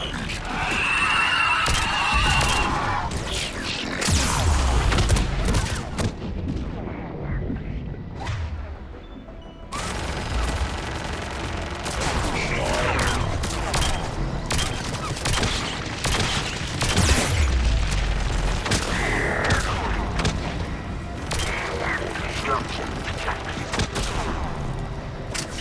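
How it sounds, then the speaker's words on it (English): Missiles launching and detonating in a sci-fi shooter video game set on Thessia: sustained volleys of booms, crashes and rapid blasts over about twenty-five seconds, loud and dense, with voices talking at times. "Missiles are hot. Missiles away."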